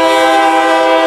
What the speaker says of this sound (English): Our first train is this westbound port stacker